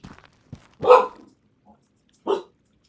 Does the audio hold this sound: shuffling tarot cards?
no